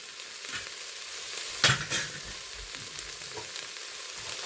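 Chopped garlic sizzles in an Instant Pot with a steady, close hiss, interrupted near the middle by a couple of sharp utensil scrapes.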